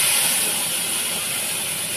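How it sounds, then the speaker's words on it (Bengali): Small bitter gourd pieces hit hot oil and give off a loud, continuous frying hiss that stays strong for about two seconds, with no one speaking. "এবার উচ্ছেগুলো ভেজে নেবো"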